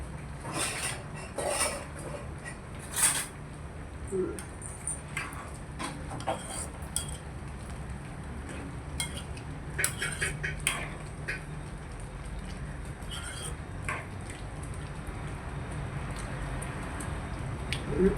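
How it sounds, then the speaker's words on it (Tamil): A spoon scrapes and knocks against a pot while lentil curry is stirred, giving irregular metallic clinks and soft scraping up close over a low background hum. "பருப்பு கறியை ஓகே கிளறுவோம்"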